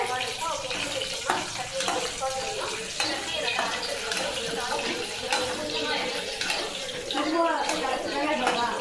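Food sautés in a pan, crackling and spattering unevenly up close, with bursts of sizzle and a voice talking over the cooking.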